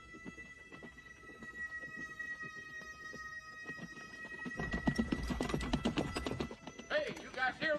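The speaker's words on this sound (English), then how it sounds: "Hey, you guys hear that? Is that a horse?" A horse approaches, its hoofbeats starting faint and growing into a loud, rapid clatter over the last few seconds, with voices and other noise underneath.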